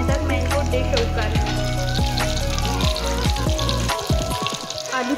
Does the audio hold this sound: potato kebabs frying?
yes